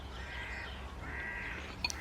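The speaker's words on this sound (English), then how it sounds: "I then like to take the time to just listen to the birds singing and look around me." Crows cawing outdoors in the morning, a few drawn-out calls at moderate distance over a steady hiss of ambient noise, with no talk.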